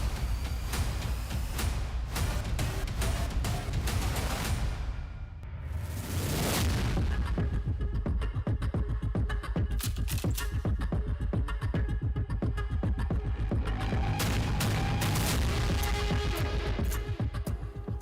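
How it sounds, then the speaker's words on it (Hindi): Gunfire across the Line of Control in Poonch, Kashmir: dense, repeated sharp cracks and booms sound at a distance, with one brief lull. "दोनों तरफ से रुक रुक कर गोलीबारी जारी है"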